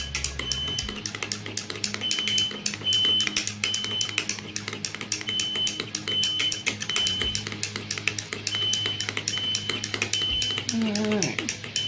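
Burger sauce, something like Big Mac sauce, stirred with a utensil in a bowl, a run of quick clinking and scraping taps against a background fan hum, with a voice talking briefly.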